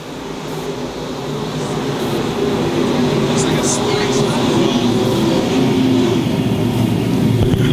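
Modified stock cars racing around a dirt track at a Friday night USRA nationals event, a dense continuous roar of engines building as the field comes off the turn, heard from a distance.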